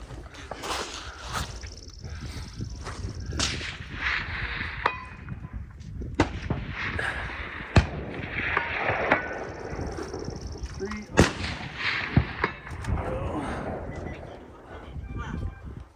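Rifle shots ring out at a long-range NRL Hunter shooting competition stage at Sheep Mountain, several sharp cracks scattered across the stretch, with people talking throughout and footsteps and handling noise between shots.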